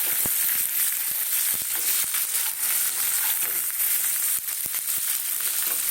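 Potatoes hitting hot oil in a pan alongside bean pods, a loud steady sizzle with crackling pops scattered throughout, close up and with no talk.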